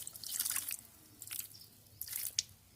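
Water is poured onto the soil of potted chrysanthemum cuttings in a few short bursts, making soft close splashes and trickles with quiet gaps between them.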